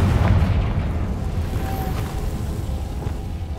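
A Confringo fire spell detonates in Hogwarts Legacy, a deep rumbling boom that rolls on steadily for several seconds with a dense low-end roar and a faint tonal whine partway through.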